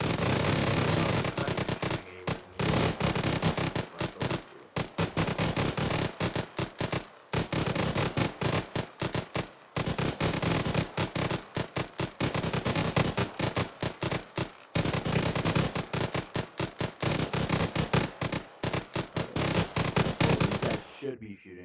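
Soldiers fire toward an objective in long, rapid volleys of gunfire, a dense crackling stream broken by short pauses, fairly close and loud throughout.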